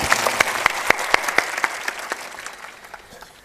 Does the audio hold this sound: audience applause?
yes